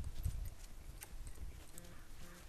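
A horse stepping away on the ground, with a few loose, uneven hoof clops close by over a low rumble and no voice.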